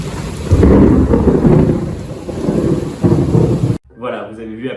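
Heavy rain roars under deep rumbling thunder during a storm, loud and close for several seconds, then the sound cuts off abruptly and a voice speaks.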